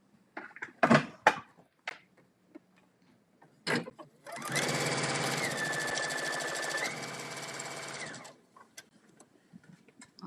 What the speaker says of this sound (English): And now I'll begin to sew.